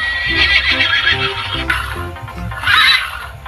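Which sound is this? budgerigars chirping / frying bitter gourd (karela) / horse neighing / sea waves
horse neighing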